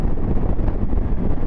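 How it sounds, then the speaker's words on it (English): Wind buffeting the microphone while riding a 2022 Triumph Tiger Sport 660 motorcycle, a loud, continuous low rumble filling the whole moment with no clear voice. "So windy."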